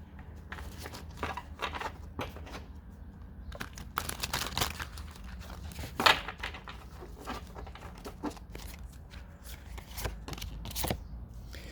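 Cards being handled and drawn from a tarot-style oracle deck in a quiet room, with soft repeated shuffling, sliding and crinkling rustles and a sharper snap of a card partway through.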